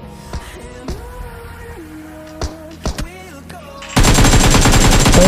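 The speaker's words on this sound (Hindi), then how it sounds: "पीछे से फायरिंग हुई है।" Gunfire in the mobile battle royale game Battlegrounds Mobile India, with scattered sharp shots over game ambience followed by a loud sustained burst of automatic fire near the end.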